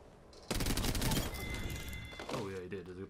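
Gunfire in the video game Apex Legends comes as a loud, close burst of rapid shots, followed by ringing and thuds. A voice speaks over the gunfire near the end.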